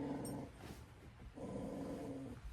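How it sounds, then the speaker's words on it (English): Low, fussy growling from a dog indoors, two sustained rumbling growls separated by a brief pause, fairly close but quiet. "My dog is in here. He's a little fussy sometimes."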